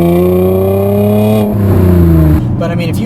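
2010 Chevrolet Camaro RS V6 engine revving hard past 4,000 rpm, a loud, close, rising interior engine note with a gear change partway through.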